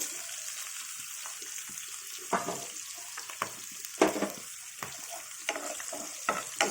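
Bottle gourd and green chillies fry in a pan with a steady, close sizzle, while spoon scrapes and stirring clatter break through it at irregular moments.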